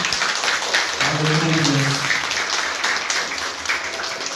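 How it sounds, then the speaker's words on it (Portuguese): Congregation clapping during a church service, a brief wash of applause with a voice briefly heard over it. "Eu quero que você aplaude Jesus"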